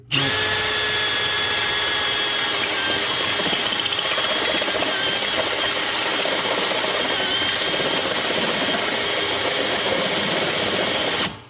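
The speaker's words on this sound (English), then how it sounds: "I don't care if we drill into that wood" A power drill whines steadily at high speed for several seconds, drilling into wood, loud and close, with a constant grinding tone and no talking.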